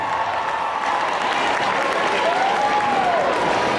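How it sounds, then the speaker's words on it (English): Sustained, loud applause from a large crowd rolls on without a break at the Fort Atkinson High School show choir finals showcase. "Give yourselves one final round of applause."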